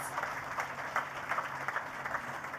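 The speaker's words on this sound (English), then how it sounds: "I think we can give them a round of applause." Audience applause at a university induction ceremony for a prime minister, steady crackling clapping across the whole stretch at moderate level with a faint voice underneath.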